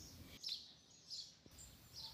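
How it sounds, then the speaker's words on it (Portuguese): Birds chirp in a backyard garden full of plants, giving faint, high, short calls that repeat at intervals over a quiet, hushed background. "e também ver os pássaros cantando"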